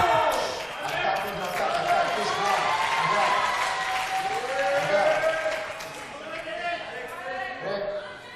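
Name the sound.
fencing match crowd noise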